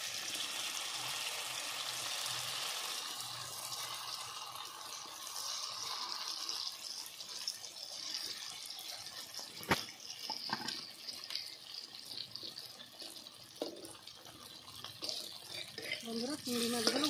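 Vegetarian imitation prawns hit hot mustard oil in a wok and set off a loud, steady sizzle that later breaks into sharper crackles and pan clatter.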